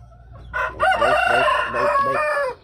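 A rooster crows loudly and close by, a long multi-part cock-a-doodle-doo call on a farm with chickens and a goat around, filling the moment with no talk.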